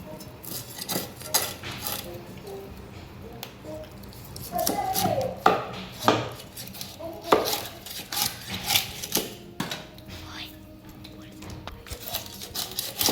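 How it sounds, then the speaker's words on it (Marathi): A rawas fish is cleaned and cut with a knife on a board, a run of irregular close chops and scrapes with clinks of the blade and handling noises, no talk. "अशी फिश कापून घेते"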